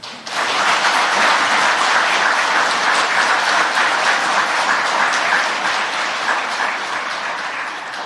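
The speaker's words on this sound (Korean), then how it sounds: "다시 한번 뜨거운 위로와 격려의 박수를 부탁드립니다." A large audience at a Korean Parents' Day ceremony attended by the president claps steadily and warmly throughout, a dense, sustained applause that holds at an even, loud level.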